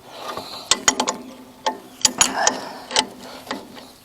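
Wrench work on the old square nuts of a small tractor's bar, heard as a series of sharp metallic clicks and ratchet-like ticks at irregular intervals, close and fairly loud, with no talk.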